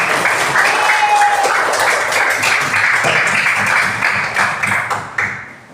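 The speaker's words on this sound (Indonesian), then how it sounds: "Boleh tepuk tangan yang semangat buat kita." Enthusiastic applause from a primary school class, a thick burst of many clapping hands that holds steady, then thins into a few scattered claps before stopping.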